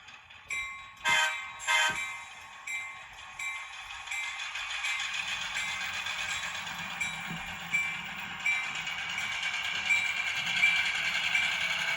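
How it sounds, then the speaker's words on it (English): A model railroad locomotive sounds two loud horn-like blasts, then a bell rings steadily in quick, even strikes under a low engine hum, continuing throughout. "I'll turn the bell off so it doesn't drive you crazy."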